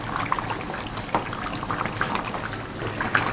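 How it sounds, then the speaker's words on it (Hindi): Chicken pieces frying in their own released water in a karahi for desi charsi karahi, a continuous bubbling sizzle with scattered sharper pops and crackles, close and steady with no talk. "जैसे जैसे ये फ्राई होता जा रहा है, गोश्त सुकड़ता जा रहा है।"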